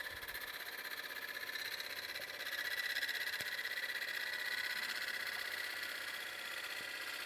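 A wood lathe spins at around 960 RPM while a partially dried bowl is trued with pull and shear pull cuts, giving a quiet, steady motor hum with a faint rhythmic flutter and no talk.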